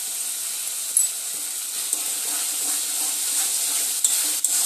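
Crab frying with spices and Kashmiri chilli powder in a pan, a steady close sizzle and hiss with a few faint scraping knocks of stirring, no voices.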